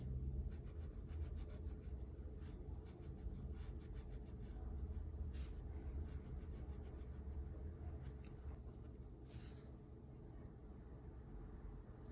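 A liner pen fills in a dark area of a drawing on paper, a close, soft continuous scratching and rubbing with rapid back-and-forth strokes, faint and steady.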